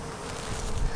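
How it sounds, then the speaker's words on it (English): Honeybees buzz at an open hive in an apiary, a dense continuous drone close by and fairly loud, with no voices. "We're looking at a hive of bees at the R. Weaver Apiaries"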